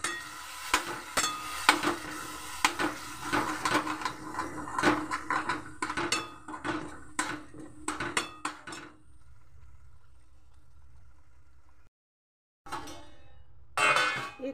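A mixer grinder jar is rinsed with hot water in a home kitchen, with irregular metallic clinks and knocks, some sharp and bright, running over the first half, then a quieter stretch, a brief silence and a final burst of clatter.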